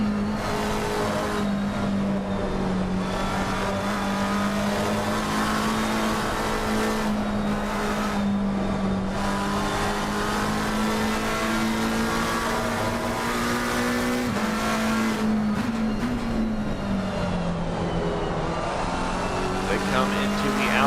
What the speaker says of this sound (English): let's go on board with the NRW Performance McLaren